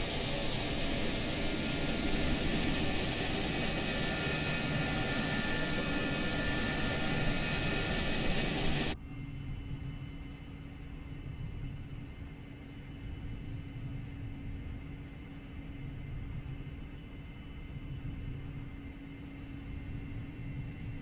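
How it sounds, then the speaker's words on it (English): An F-104 Starfighter jet in Flight Simulator 2020 gives a steady loud roaring engine rumble that drops abruptly to a lower, duller drone partway through and continues evenly. "The F-104 Starfighter"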